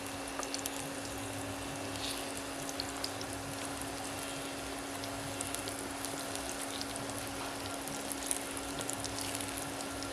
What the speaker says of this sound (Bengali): আমি শ্যালো ফ্রাই করছি, আপনারা ডিপ ফ্রাইও করতে পারেন